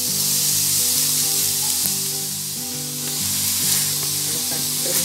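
Washed, drained rice sautéing in a pan for a simple home-cooked lunch, a steady close sizzle with faint stirring scrapes under a constant soft tonal hum, no talk.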